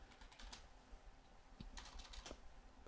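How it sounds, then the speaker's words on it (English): Quiet, close clicks of keys being pressed on a computer keyboard, several scattered taps over a few seconds with no voices. "you actually use the enter on the right hand side of your keyboard, so right where the number pad is"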